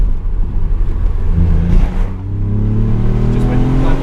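A 2019 Ford Fiesta ST MK8 engine pulls steadily under acceleration, its harmonic drone rising in pitch across a few seconds, loud and close from inside the car.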